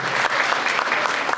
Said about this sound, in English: we need a round of applause to you